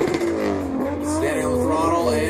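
A drift car at a Formula Drift Pro2 event screams at full throttle, a loud, sustained high engine note with rising and wavering revs, heard close by.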